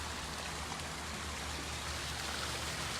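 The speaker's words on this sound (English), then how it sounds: "There's those 3 of the water features, like the waterfall." Waterfall water feature flowing into a backyard pool, a steady broadband rush of falling and splashing water, continuous and fairly close throughout.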